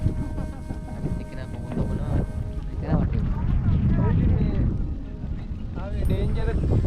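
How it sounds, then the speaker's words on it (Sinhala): Strong wind gusts across an exposed rock in the Sri Lankan scrub jungle, buffeting the microphone with a steady low roar while someone talks over it throughout. "උලම් පාර සෑහෙන උලම් පාරක් හමනවා මෙතන."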